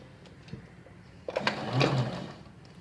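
Sewing machine stitching a stand collar on a kurti, a soft whir that rises into a brief steady run of stitching after a few faint clicks, close and moderately quiet.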